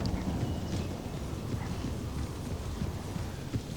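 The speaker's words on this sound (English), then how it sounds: "I think that's just enemy horses" Enemy horses gallop across the battlefield in the strategy game Empire: Total War, a steady low clip-clop rumble of many hooves filling the scene with constant battle noise and no talk.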